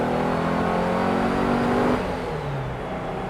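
A Porsche 356 engine revs hard in second gear from low RPM, a loud, close, steadily rising roar that climbs toward the red line and eases off near the end, with no talking.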